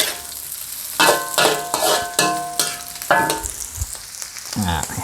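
Wagyu beef stir-frying in a pan with plenty of garlic and chili for a Thai basil stir-fry: loud, close scraping and tossing strokes in an uneven rhythm over a steady sizzle.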